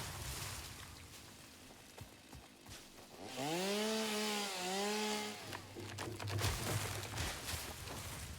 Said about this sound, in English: Enjoy the sounds of the chainsaw.